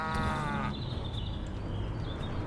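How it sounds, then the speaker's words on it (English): A cow bellows in the video game Destroy All Humans, a short loud bleating moo at the start that drops into noisy game sounds and background rumble. "You heard a cow."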